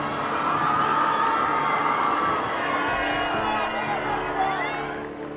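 A vast open-air crowd of over 40,000 people applauds and cheers the Pope in St. Peter's Square at Easter, a dense continuous roar of clapping and shouting with voices mixed in throughout.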